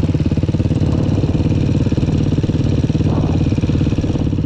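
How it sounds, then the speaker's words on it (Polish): A Suzuki LTR quad engine runs close by, a loud steady rapid pulsing exhaust burble that holds for several seconds. "ta LTR gada, ale jaki wydech ma tam"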